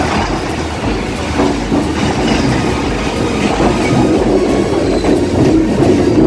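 Train running along the Ganges riverside near Princep Ghat, a loud steady rumble of wheels and carriages with clattering rail noise throughout.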